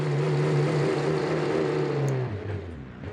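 A modified 200BX with a massive engine rolls in within BeamNG.drive, its low steady engine drone holding pitch, then dropping and fading as it slows near the end.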